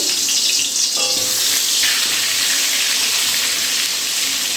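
Four potato pieces fry in hot, darkened oil in a wok, giving a loud, dense, continuous hiss that stays even throughout with no voices.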